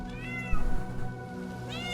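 Cat meowing in the horror video game Varsapura, two drawn-out mewing calls at the start and end over a steady low musical drone, with a soft thump between them.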